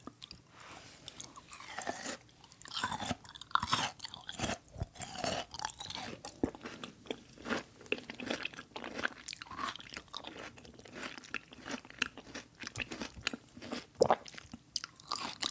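Apple grapes eaten up close, with continuous crisp bites and wet, crunchy chewing in an irregular rhythm, intimate and fairly quiet, with no talking.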